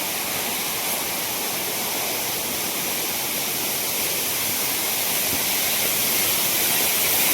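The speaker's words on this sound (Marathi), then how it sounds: "तुम्हाला दाखवतो मी चापण्याचा धबधबा. आता त्याला पाणी लय आहे" A waterfall carrying heavy water flow roars continuously, a dense broadband rush that holds steady and loud from start to finish with no voices.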